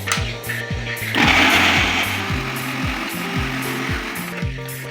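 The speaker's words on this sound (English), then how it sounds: "Then I will blend" A kitchen blender whirs loudly and steadily as it purees tomatoes for a tilapia stew, with a rhythmic low churning under a bright, dense motor hiss that holds for most of the clip.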